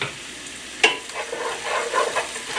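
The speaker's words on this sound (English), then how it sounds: "Give them a quick stir" Shallot, onion, ginger and garlic frying over low heat in oil while being stirred, a soft sizzle with a sharp scrape of the utensil near the start and gentle stirring after.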